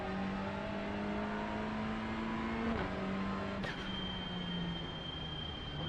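TCR race car engine at a standing start in iRacing, a held high rev drone that drops as the clutch is released, then rises again into acceleration with a sharp upward sweep, loud and close.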